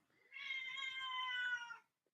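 A cat lets out a single drawn-out, tonal meow at close range, lasting over a second before stopping, with near silence around it.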